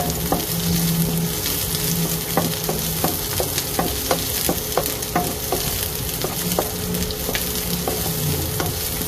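Garlic and onion fry in a pan with a steady close sizzle, broken by repeated sharp clicks and scrapes of stirring throughout, with no talking.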